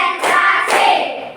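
A class of pupils claps hands together in a patterned classroom clap, two sharp collective bursts about half a second apart, loud and close with no talk.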